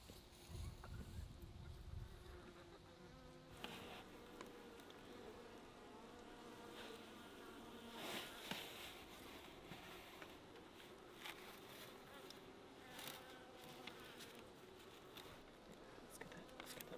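Bees from a strong hive hum in a continuous, even drone, faint and fairly distant, with the occasional nearer buzz passing and soft background noise throughout.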